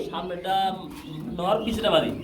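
Pigeons coo softly in short throaty phrases at a pigeon sale, mixed with people talking nearby.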